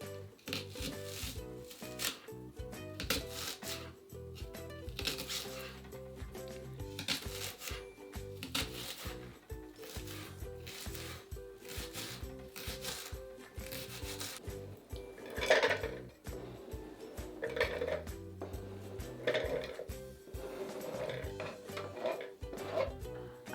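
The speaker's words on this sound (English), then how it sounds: "I'm going to start by chopping my shallots" Shallots being chopped with a knife on a wooden board, heard as a steady run of close, rapid knocks and clicks for the whole stretch, with no talking over it.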